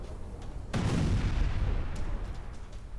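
Explosions in Iran on news footage: a sudden loud boom after a quiet stretch, rolling into sustained dense blasts and rumbling fire that carry on to the end.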